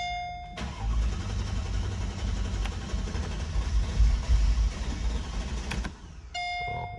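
A 2004 Mercedes-Benz SL500 engine cranks and fires, then settles into a loud, steady V8 rumble close by, with a chime tone before and after the run.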